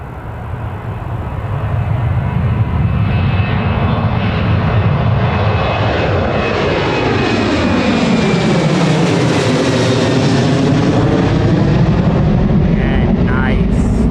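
TUI airliner at Newcastle Airport, its jet engines building into a loud, sustained roar that swells and shifts in pitch as the aircraft passes close by.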